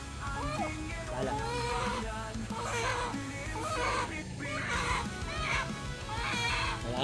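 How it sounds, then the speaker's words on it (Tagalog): A hurt chicken squawks and clucks in repeated agitated bursts, fairly faint, with people talking nearby. "Niliyak yung manok, nasaktan."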